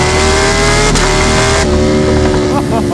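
Ducati Panigale V4 SP superbike accelerating hard on the German Autobahn, a loud, close, continuous engine roar rising in pitch with one gear shift partway through, under heavy wind rush.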